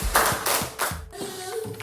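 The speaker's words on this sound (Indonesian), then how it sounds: "Tepuk tangan." Classroom clapping for top-ranked students, a few scattered hand claps close by, uneven and brief rather than a full ovation.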